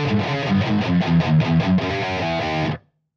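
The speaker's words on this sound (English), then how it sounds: "I'm going to run through two cycles of the riff at slow speed." Distorted electric guitar playing a metal riff slowly, a chugging run of palm-muted and ringing notes that ends in a sudden stop, loud and alone.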